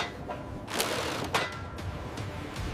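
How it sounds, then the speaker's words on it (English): Bolts being torqued on a wind turbine flange in a factory, a few ratcheting clicks and brief metallic bursts over a low mechanical background hum, fairly faint and without talk. "Torquing the bolts now."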